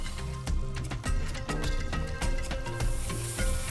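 Onions and yogurt sizzle in a pan while being stirred slowly for a Lucknowi dal, a steady frying hiss broken by regular spoon scrapes and clinks against the pot roughly every half second.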